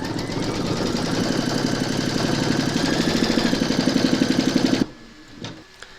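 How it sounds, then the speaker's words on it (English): An embroidery machine stitches a round of a design on fabric held in a hoop, a loud, fast, even mechanical chatter that runs for several seconds and then stops abruptly. "Pop your hoop into your machine and stitch round number 6"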